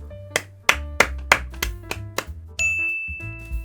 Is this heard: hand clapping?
yes